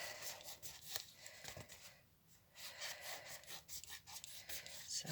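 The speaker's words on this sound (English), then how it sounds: "So just basically cut that out with your scissors." Scissors snipping through paper around a teacup template for an Alice in Wonderland wedding bouquet, a steady run of close, scratchy cutting strokes with a brief pause midway.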